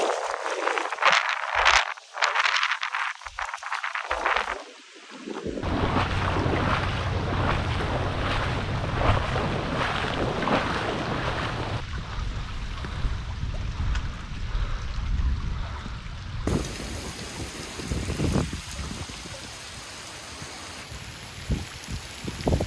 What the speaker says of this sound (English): There's a storm. A bit windy.